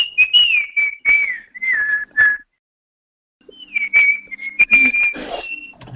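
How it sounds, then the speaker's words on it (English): A person whistles a short melody up close, a few phrases that pause for about a second before resuming, with small clicks and handling noises between notes. "So I'm gonna whistle."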